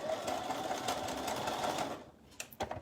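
Sewing machine stitching a skirt pocket, a steady fast whirring run that stops abruptly, followed by a few quiet clicks and handling sounds.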